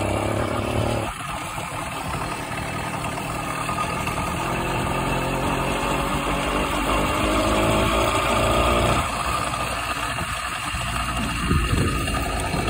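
A small engine on a motorized tandem bicycle runs after a bump start down a hill, a continuous buzzing putter with slight rises in revs, heard alone over wind noise.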